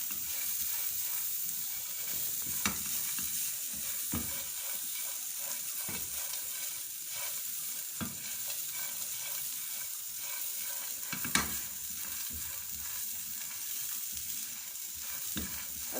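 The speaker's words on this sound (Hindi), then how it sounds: "जी मैं ले रही हूँ किशमिश, इसको भी साथ ही रोस्ट करेंगे।" Raisins roast in a hot pan for shahi kheer, a soft steady sizzle and hiss with occasional light clicks and stirring taps close by, no voice over it.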